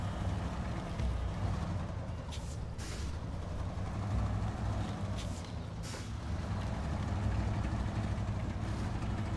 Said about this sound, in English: I love the engine sound on it.